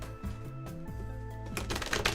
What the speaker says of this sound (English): We do have to shuffle.